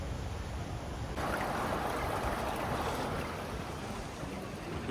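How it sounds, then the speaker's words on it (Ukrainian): A river runs straight down the middle of a central city street with a steady broadband rush of flowing water, continuous and moderately loud, growing a little fuller after the first second, with no voices. "Це прямо посеред центральної вулиці. Це навіть не каналізація. Це просто річка."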